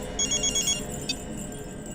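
A telephone rings with a brief electronic chirping tone in a quiet indoor scene, followed by a single short repeat over a faint background hum.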